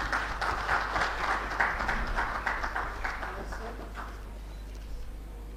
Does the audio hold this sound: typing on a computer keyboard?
no